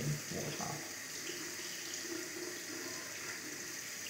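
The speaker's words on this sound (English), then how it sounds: "I'm just going to let the water warm up." Tap water running into a sink to warm up before bathing a guinea pig, a faint, steady hiss and splash that continues evenly without pause.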